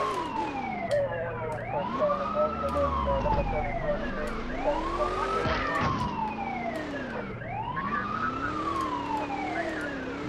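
A police car siren in the PlayStation 1 game Grand Theft Auto 2 wails in steady rising and falling sweeps, loud and continuous for the whole stretch, with engine rumble and brief game effects beneath it.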